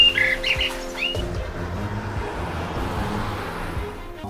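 A cartoon bird chirps in a few bright, quick tweets in the opening second, followed by a low rumbling background bed with no talk.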